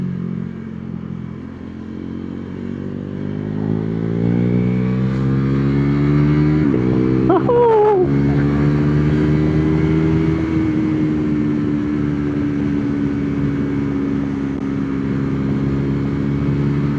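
A KTM Duke 390 v2 single-cylinder motorcycle with a Termignoni exhaust idles and then revs up, its deep, rough engine note rising and holding steady, loud and close, with a brief metallic clatter partway through.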